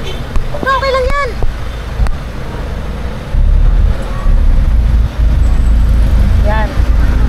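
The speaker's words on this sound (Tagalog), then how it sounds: "Medyo traffic po mga kabisnes." Road traffic with buses and trucks rumbles in a low, constant drone of engines that thickens partway through, while people talk over it.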